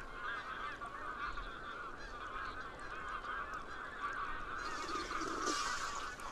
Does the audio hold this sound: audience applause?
no